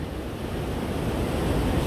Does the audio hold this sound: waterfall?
yes